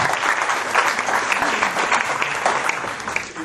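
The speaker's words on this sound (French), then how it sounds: "je vous demande d'applaudir tous les parents" Sustained audience applause for the parents at a university rally ceremony, a dense, steady clapping wash that fills the whole stretch at even loudness, with no speech over it.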